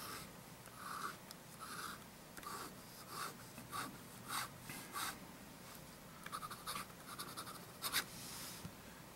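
Waterman L'Etalon fountain pen writing on paper, with a soft scratchy nib sound in repeated short strokes and rhythmic scribbles, close-up and quiet against a faint background hiss.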